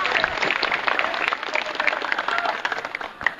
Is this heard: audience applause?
yes